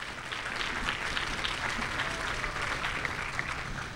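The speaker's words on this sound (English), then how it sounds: "One last round of applause for all of our top 25." An audience claps for the top finishers at a math competition awards event, a sustained, moderately distant patter of many hands at an even level.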